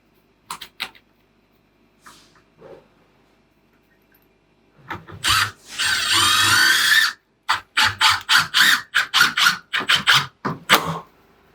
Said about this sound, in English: when I was trying to drill it in, it was kind of pulling in